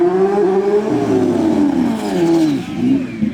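FRS Pro Mod race car at a TX2K22 track event, a loud close engine roar with a shifting pitch that dips and climbs as it accelerates.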